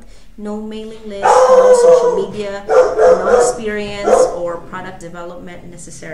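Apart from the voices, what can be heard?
dog barking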